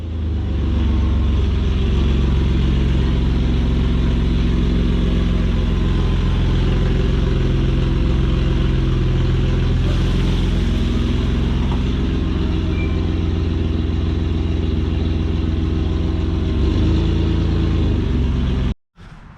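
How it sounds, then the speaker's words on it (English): A pickup truck engine idles and rumbles steadily up close as the truck backs into a shop, a continuous low drone that cuts off abruptly at the end. "I backed the truck in"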